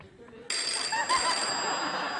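An electronic telephone ring cuts in abruptly on a late-night TV talk show set and carries on steadily for the rest of the short stretch.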